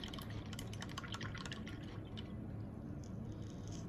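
Paintbrush swished and rinsed in a water cup while painting, giving soft continuous splashing and dripping close by, with faint clinks, no talking.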